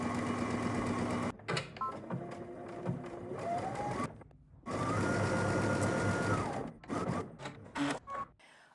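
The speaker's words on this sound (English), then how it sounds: "So head to your sewing machine, and again, we're just gonna stitch around" Rhythmic mechanical whirring of a sewing machine stitching in bursts, running steadily for a few seconds, pausing briefly, then resuming with short stops near the end.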